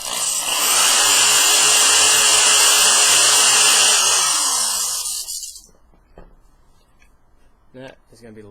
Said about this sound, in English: that is going to be the last hole that I have to drill